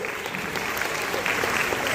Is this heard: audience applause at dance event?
yes